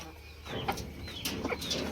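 Aseel chickens in a poultry farm cage give a few short clucks and coos, close and moderately loud, over a steady low background hum.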